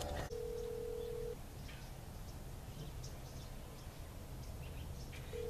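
A single telephone tone sounds briefly at the start while calling a friend, then a faint, quiet line hiss with a short tone returning at the very end.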